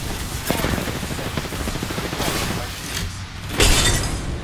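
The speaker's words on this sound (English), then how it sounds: "Broke one of them with the frag grenade." A frag grenade bursting through an enemy's energy shield in a video game, a loud shattering crash amid rattling gunfire, with a sharp breaking burst near the end.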